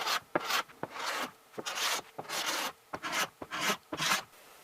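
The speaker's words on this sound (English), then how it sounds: "it only took a few minutes with the cabinet scraper and card scraper" A cabinet scraper and card scraper work a wooden shelf by hand, giving a series of short raspy scraping strokes in an irregular rhythm, close and fairly quiet, with no speech.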